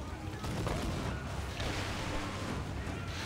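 Cannon fire aimed at small boats during a naval battle in Assassin's Creed, a dense continuous rumble of booming shots and blasts, steady and full without pauses.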